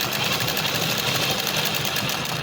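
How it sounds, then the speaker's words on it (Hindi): Sewing machine running steadily while stitching along cut work on a fabric screen panel, a continuous close mechanical whir with a faint rhythmic knock throughout. "इतना कट वर्क छोड़ के ही हम सिलाई लगाएंगे।"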